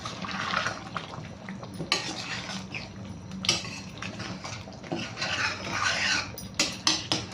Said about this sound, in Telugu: ఫస్ట్ ఇది నీట్గా మిక్స్ చేసేసుకుందాము